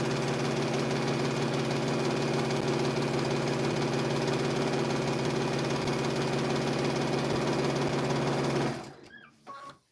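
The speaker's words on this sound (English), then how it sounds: "And I'm going to sew." A sewing machine stitches quilt pieces for half-square triangles with a steady, loud, close mechanical hum and fast rhythmic whirring that runs continuously, then stops abruptly near the end.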